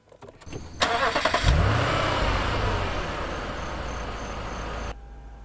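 A third-generation Lexus GS 460 V8 luxury sedan is started with a push button. A brief starter whir leads into the engine catching with a loud rev, which then settles into a steady, close idle before cutting off.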